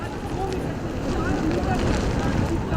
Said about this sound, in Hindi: चाहे वो समुद्र की ऊंची लहरों की आवाज़ हो, चाहे वो जो तेज़ हवाएं इस वक्त चल रही हैं उसकी आवाज़ हो